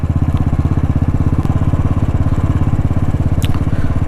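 A motorcycle is ridden on a road near Chalsa and Gorumara, its engine a steady, loud, rapidly pulsing drone from start to finish.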